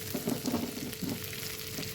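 Chicken pieces fry in a pan over a low gas flame for a milk chicken dish. The sizzle is continuous and soft at close range, with faint stirring scrapes and no talking.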